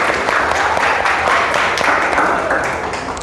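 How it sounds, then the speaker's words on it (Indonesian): A classroom of students applauds together at the end of an Islamic studies lesson, a steady, dense patter of many hands clapping at close range that holds evenly for a few seconds before tapering off. "Oke, beri tepuk tangan untuk kita semua."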